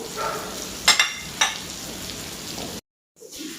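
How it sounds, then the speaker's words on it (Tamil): Chopped onions sautéing in a pan over a high flame, a steady close sizzle with a few sharper crackles and stirring scrapes near the start, then a brief cut to silence before the frying resumes faintly. "இந்த வெங்காயம் வதங்கிட்டு இருக்குல்ல"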